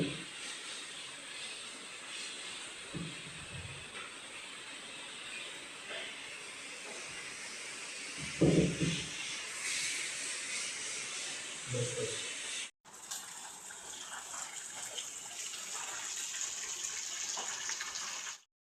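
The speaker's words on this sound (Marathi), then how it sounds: "इथं जो गणपतीचा टेबल ठेवला आहे तो धुवून घेतो आहे" Water runs and hisses steadily while a Ganesh idol table is being washed, with a few low knocks and bumps along the way and a brief break partway through.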